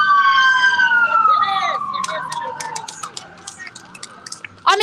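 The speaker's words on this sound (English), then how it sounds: "that ambulance literally had branding on it" An ambulance siren passing on a Los Angeles street, loud wailing tone sliding downward as it goes by, then breaking into short chirping bursts before a final rising whoop, over traffic background.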